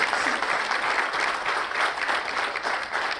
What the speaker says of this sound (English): And all the exhibitors, I want us to give them a round of applause.